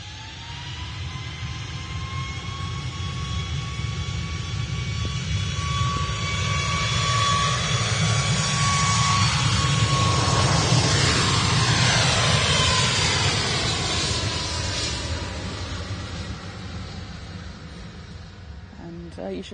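Ryanair Boeing 737 Max jet engines roaring past, a loud steady whine and rumble that builds to a peak midway and fades off, with a voice talking briefly over it.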